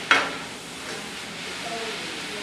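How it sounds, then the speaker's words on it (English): A soft, steady sizzle of eggplant, mushrooms and other vegetables stir-frying in olive oil in a pan, with a brief clatter at the start and gentle stirring throughout. "stir frying all of the ingredients down in the pan"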